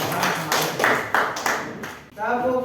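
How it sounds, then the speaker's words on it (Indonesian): Fourth-grade pupils in an Indonesian classroom clap for group 2 in a few distinct, rhythmic bursts, close and fairly loud, before a voice starts speaking. "Tepuk tangan untuk kelompok 2"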